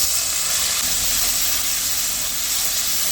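Spice paste added to hot oil and onions in a pan for a fish curry, giving a loud, steady, broadband sizzle and hiss that holds evenly throughout, close and without talk.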